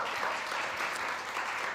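Audience at a food summit at SXSW applauding, a dense, even wash of many hands clapping, loud and continuous throughout.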